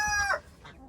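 Backyard chickens give a brief burst of clucks close by, including a short crowing-like note, over less than a second.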